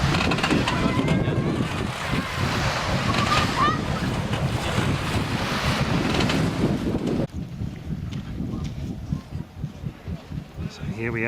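Ferry crossing between Finland and Sweden, with loud wind buffeting the microphone and water rushing against the hull, easing into quieter choppy wash, while voices talk over it.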